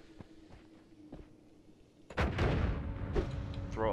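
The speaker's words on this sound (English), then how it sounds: "we'll drop a bomb" A bomb going off in the video game Noita, a sudden loud blast after quiet, faint game sounds, followed by a lingering crackling rumble of debris.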